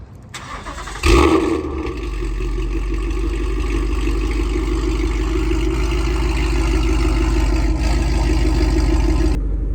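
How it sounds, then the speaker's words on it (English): Ford Mustang 5.0 with straight pipes, Corsa Extreme catback and stainless long-tube headers, warm-started: a sharp starter crank and loud bark about a second in, then a deep, rumbling, steady idle close by. "this is a warm start of Corsa Extreme catback connected with stainless power long tube headers"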